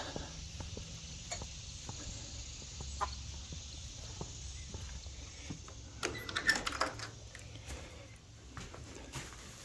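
A broody hen clucks softly in a chicken run, with low murmuring clucks and scattered sharp taps and clicks, building to a brief cluster of louder pecking sounds before quieting.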